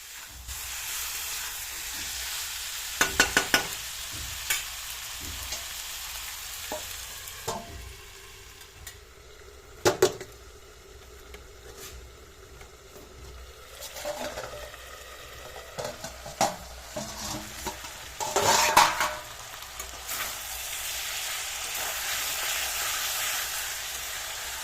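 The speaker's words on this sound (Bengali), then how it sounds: "যেহেতু আমাদের চিকেনটা ম্যারিনেট করা ছিল, তাই আমাদের কিন্তু এটি কষতে খুব বেশি সময় লাগবে না।" Marinated chicken for Bengali chicken kosha sizzles and fries in a pan with a steady hiss. Scattered clinks and scrapes of stirring and lid handling punctuate it, close and moderately loud throughout.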